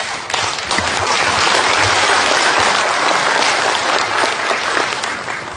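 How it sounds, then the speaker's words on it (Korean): An audience at a business people's day ceremony in Gwangyang claps loudly and continuously, a dense sustained wave of applause from start to finish with no speech over it. "여러분 박수로 환영해 주십시오."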